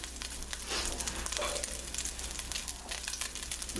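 Vegetables for a chicken, white bean and okra dish hit a hot pan with a loud, steady sizzle and crackle, a short hissing burst rising as they land and then settling into continuous frying with no talking.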